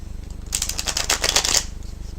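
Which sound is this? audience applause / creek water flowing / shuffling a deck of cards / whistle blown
shuffling a deck of cards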